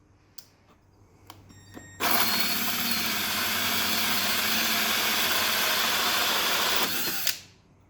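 A power drill bores a hole through a bumper on a 2018 Polaris RZR XP Turbo S, a loud, steady, close whine lasting about five seconds after a few light clicks, then spinning down abruptly.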